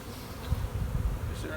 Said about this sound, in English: See, the bees starting to cluster at the top, and the queen could be there.